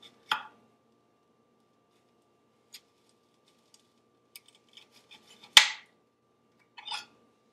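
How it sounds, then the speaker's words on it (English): A knife slicing down through an onion on a cutting board: a few separate, sharp chops and taps spaced across several seconds, close and fairly loud against an otherwise quiet kitchen, with no one talking. "What I like to do is cut the onion down the middle first."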